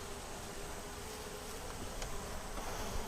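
Honey bees drone in an open Langstroth hive, a steady, soft, continuous buzz of many insects close by, with no talking over it.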